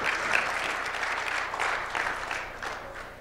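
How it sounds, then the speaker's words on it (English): An audience at a church gathering claps steadily, a thick, even wash of many hands heard at moderate level throughout, with no voices standing out. "they're clapping for you"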